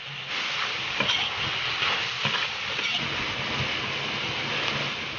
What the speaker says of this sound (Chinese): 把羊腿和辣子稍微炒一会儿，下入西红柿，把西红柿里的汁子炒出来就能出锅了。